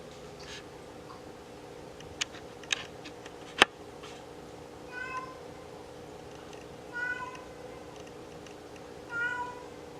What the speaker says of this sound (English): That cat just won't shut up, will it?